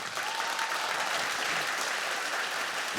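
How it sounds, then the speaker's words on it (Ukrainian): A crowd at a student leadership club presentation claps continuously, a dense, even patter of many hands at moderate volume, with faint voices barely audible beneath. "Алан Бадоє, ваші оплески."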